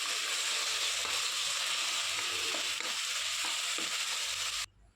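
Beetroot paste fries in a pan with a continuous close sizzle, while a spoon stirs and scrapes at intervals before the sound drops off abruptly near the end.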